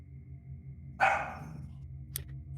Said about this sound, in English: You hear dog.